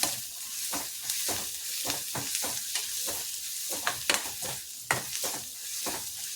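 Onions frying in hot oil in a pan sizzle steadily and loudly, broken by regular scraping strokes as a spatula stirs them, with no talking.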